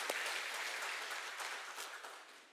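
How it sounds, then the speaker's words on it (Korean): A church congregation applauds its intercessory prayer team during a Sunday service, a steady wash of many hands clapping that starts full and slowly fades over a couple of seconds. "지금 여기 중보기도팀이 있는데 한번 고마운 박수 한번 보낼까요?"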